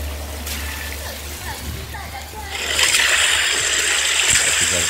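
Pond water scattered by hand into a biofloc catfish pond, a rising splashing wash that turns broad and steady halfway through, close by with no talk.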